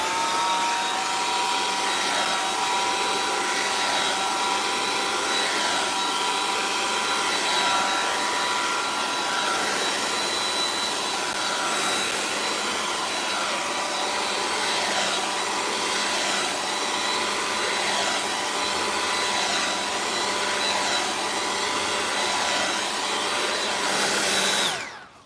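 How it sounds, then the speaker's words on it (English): Hair dryer blowing continuously on washed, coconut-oiled hair freshly taken out of braids, a loud close whoosh with a steady motor whine that holds for the full length before cutting off at the end. "and then I'll blow dry out my hair."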